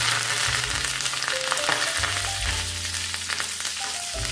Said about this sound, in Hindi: तो तड़के के लिए मैंने तेल गरम किया है, इसमें हम राई डाल देंगे, थोड़ी सी हींग डालेंगे, कड़ी पत्ता डाल देंगे